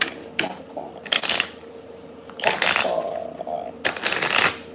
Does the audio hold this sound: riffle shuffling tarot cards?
yes